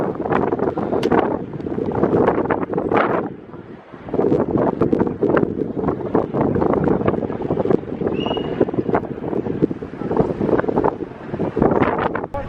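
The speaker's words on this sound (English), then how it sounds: "It's really windy again, so I'm trying to block the wind as much as I can." Strong gusting wind buffets the microphone on the rock of Monaco, a loud, steady roar with rumbling bursts throughout and a brief lull near the four-second mark.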